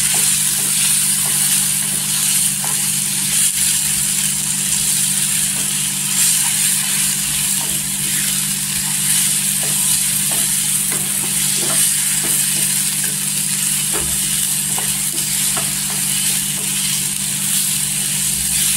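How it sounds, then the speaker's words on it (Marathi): Masala spice powders, red chilli, homemade masala and coriander powder, sauté in hot oil for a dhaba-style egg curry, giving an even, loud sizzle with scattered stirring clinks and scrapes throughout, close up and without speech. "इथे मसाला तेलावर परतून घ्यायचं"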